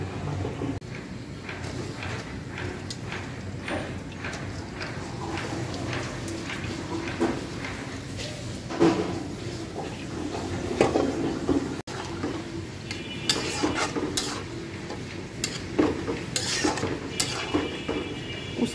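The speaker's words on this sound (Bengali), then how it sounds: "এখন জাস্ট এখানে আমি উস্তাগুলো দিয়ে দিচ্ছি।" Bitter gourd pieces dropped into a boiling shrimp curry in a kitchen pot, with soft clinks and scrapes of a utensil against the pot under a steady bubbling hiss, and a few sharper knocks later on.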